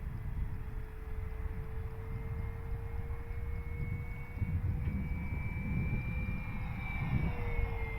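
An FMS Cessna 182 RC model plane flies on a windy day, its steady electric motor whine holding a thin continuous tone that rises slightly over the flight, over a constant rumble of wind buffeting the microphone.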